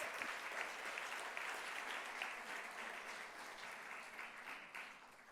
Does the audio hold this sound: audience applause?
yes